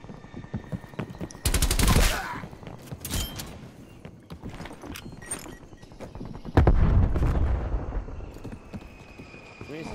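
Gunfire in Call of Duty: Black Ops Cold War, bursts of rapid shots cracking out in clusters amid hoofbeat-like clatter and other game noise, with talk over it.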